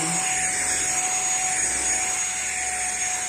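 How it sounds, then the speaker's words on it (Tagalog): A small vacuum cleaner runs steadily throughout, a constant high-pitched motor whine with a whooshing airflow, close and fairly loud. "ibabacuum natin yung nawalang cover"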